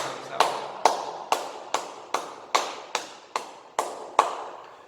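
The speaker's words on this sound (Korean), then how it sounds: "우리 다 같이 하나님께 영광의 박수 올려드리겠습니다." A church congregation at a Sunday worship service claps together in a slow, steady rhythm of about ten sharp, unison claps, each one ringing out clearly in the room.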